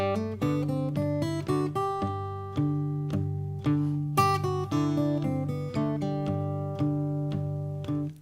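Fingerstyle guitar plays a plucked melody in steady eighth notes, each note ringing clearly with sustained bass tones underneath, alone and close with no talking.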